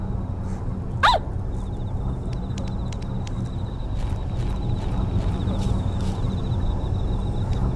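A dog gives a single short bark early on in the Yomawari: Lost in the Night video game, over a steady low ambient hum with faint ticking and chiming game sounds.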